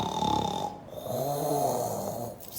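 A voice imitates snoring in a children's story, drawing out a couple of long, rasping, nasal snores with a brief breath between them, close and alone.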